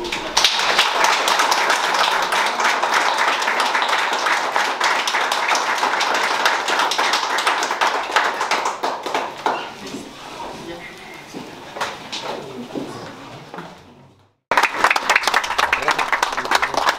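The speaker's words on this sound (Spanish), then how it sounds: "Les pido un fuerte aplauso para Jimena." Church congregation applauding after a mass in a small Mexican community, dense steady clapping for about fourteen seconds that thins toward the end, then a brief gap and a burst of clapping again.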